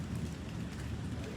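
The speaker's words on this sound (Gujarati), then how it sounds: "વરસાદ આવે છે પણ જો ગાજે છે જો" Night rain in Bhavnagar with thunder in the air, a steady close patter of rain falling on surfaces that runs evenly throughout; no distinct thunderclap stands out.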